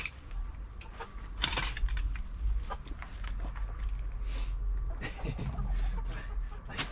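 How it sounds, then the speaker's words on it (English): Chickens cluck and mutter while scratching about in a spring garden compost pile, with soft scratching and scraping sounds underneath and a few louder clucks. "Make sure the chickens don't get in the way."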